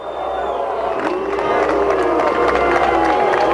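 A race crowd at the 2007 Champ Car round in Toronto cheers and roars steadily, a dense wash of many voices that swells slightly and holds throughout.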